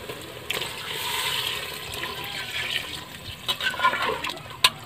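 Water poured into a cooking pot of seasoned pork in an outdoor garden kitchen, a continuous splashing gush with a few clinks and knocks toward the end, close and moderately loud, no talk.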